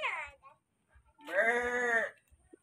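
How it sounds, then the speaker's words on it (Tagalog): A sheep gives one clear, wavering bleat of under a second, close and fairly loud, after a short voice at the start and a brief pause. "Ganun ba yung sounds ng tupa?"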